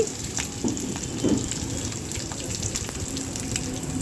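Tempering for coconut chutney with coriander leaves added at the end gives a soft, steady sizzle of frying, with faint clinks and stirring on top.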